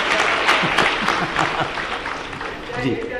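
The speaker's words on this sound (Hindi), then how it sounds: "उस लिहाज से ताली बजनी चाहिए" An audience at an all-India educational conference's bait baazi poetry contest breaks into steady, dense clapping that fills the hall for a few seconds, with a brief spoken word underneath.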